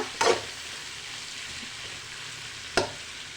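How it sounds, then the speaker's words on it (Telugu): Sambar vegetables being stirred in a pan while they cook, a soft steady sizzle under two brief sharp scraping stirs, one near the start and one near the end, with no talk. "ఇంకోసారి కలబెట్టుకుందాం ఇవి కొంచెం మగ్గాలండి"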